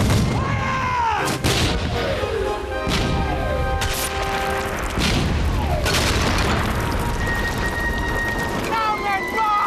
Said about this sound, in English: Marines, make ready! Where's Maguire? I don't know, sir. Present! Fire! Fire!